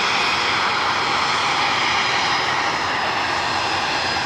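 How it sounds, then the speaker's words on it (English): A Turkish Airlines Airbus A330 heavy jet taxis out at Manchester Airport, its engines giving a steady, loud broadband roar with a high whine on top, constant and unbroken throughout with no voices. "another heavy aircraft on a taxi out for Istanbul is a Turkish A330"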